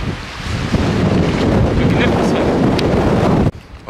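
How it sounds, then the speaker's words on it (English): Strong gusting wind buffets the microphone on an open hiking trail in Torres del Paine, Patagonia, a loud, continuous roaring rumble that drops away abruptly near the end. "it's so windy, like you have to lean against the wind when you walk"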